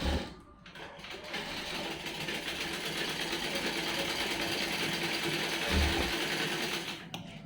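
A sewing machine stitches a cross belt, running in a steady fast mechanical whir with rhythmic clatter. It is close and loud, slowing briefly near the start and end as the fabric is turned.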